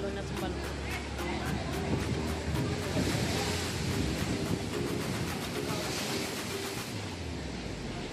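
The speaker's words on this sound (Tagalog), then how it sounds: "Parang sobrang galit na galit yung alo ng tubig." Rough, choppy sea surf heaving against the rocky shore of Cape D'Aguilar Marine Reserve in Hong Kong, a steady loud wash of breaking waves mixed with wind buffeting the microphone.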